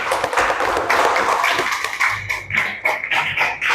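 A classroom group claps briefly, a light patter of hands that settles into a few rhythmic taps near the end, fairly close and with no talking over it.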